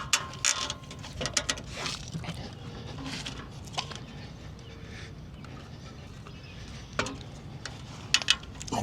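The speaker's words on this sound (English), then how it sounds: "And then we're gonna ratchet that down in the back as well." Ratchet strap being cranked tight on an ebike hitch rack, a close, quiet series of clicking ratchet strokes with sharp mechanical taps scattered across the clip, with no talking.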